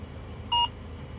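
A single short electronic beep sounds as a phone app pairs with a device inside an online taxi, standing out over a low, steady cabin hum.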